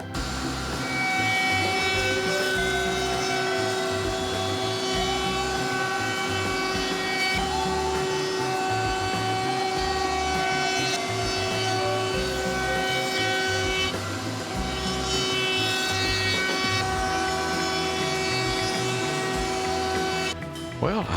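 A router rounding over wood edges roars continuously at high speed, a steady loud whine with a sharp cutoff near the end.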